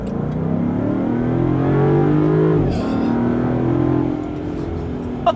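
Supercharged 5.0-liter V8 in a 2025 Land Rover Defender 90 revving, rising through a strong harmonic snarl, dropping sharply, then climbing and holding before easing off, close and loud.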